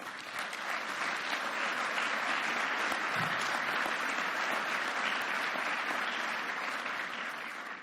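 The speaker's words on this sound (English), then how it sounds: "I would ask you to applaud yourself for the commitment that you've made." An audience at the 2018 OPRA Awards ceremony applauds in a loud, even wash of clapping that holds steady for several seconds before tapering slightly at the end.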